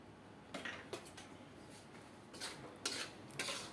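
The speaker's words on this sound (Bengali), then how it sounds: "নুন আর ভিনিগার সব কিছু একসাথে ভালো করে মিশিয়ে নেব।" A spoon clinks and scrapes against a bowl as a spice mix is stirred with salt and vinegar for a Bengali masala chicken, producing a few sharp, scattered taps over quiet background, faint overall with no voices.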